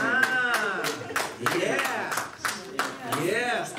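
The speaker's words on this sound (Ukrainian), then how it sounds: "Ваші аплодисменти для мене особливо важливі." Scattered audience claps ring out in a hall during a Ukrainian lesson-style talk, sharp and irregular rather than a full ovation, while a voice keeps talking over them.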